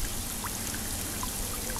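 Water poured from a bucket into a planting hole while conifers are being transplanted in autumn, a soft, steady splashing trickle with a few faint drips.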